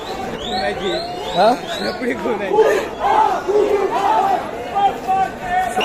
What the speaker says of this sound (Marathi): खूप गर्दी आहे इकडे पण